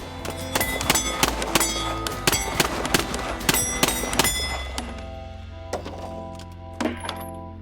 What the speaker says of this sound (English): Draw and engage each plate with 5 shot each. There's 3 plates.